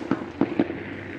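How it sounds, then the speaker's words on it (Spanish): Three sharp firework or firecracker bangs go off in a neighbourhood on Christmas night, spaced irregularly over about a second, moderately loud with a faint background hum. "video de los fuegos artificiales en mi barrio de Navidad 2020"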